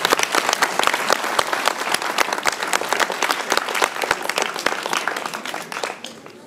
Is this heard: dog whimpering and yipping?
no